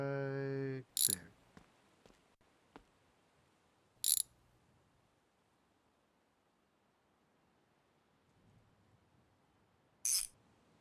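Bolts are tightened by hand on a diesel engine: a few sharp ratchet clicks and metallic taps spaced several seconds apart, close and fairly faint in a quiet garage, after a brief mechanical hum at the start.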